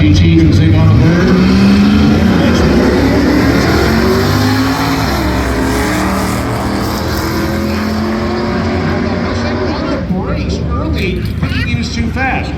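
A 1968 Pontiac Firebird with a 301 engine and a Mustang GT with a 5-liter engine drag race on an eighth-mile track, loud engines roaring and revving steadily under crowd chatter and voices.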